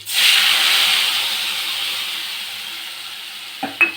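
A ground paste of mustard, poppy seed and green chilli hits hot oil with fried tempering spices while making mustard hilsa, giving a loud, bright sizzle that slowly fades, then a brief clatter near the end.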